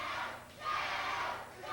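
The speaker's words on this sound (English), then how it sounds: "Right now, folks, the crowd rallying behind the man from the SWATs" A wrestling crowd at a tag team title match cheers and rallies, a dense roar of many voices that surges and dips briefly before swelling again, with no clear speech over it.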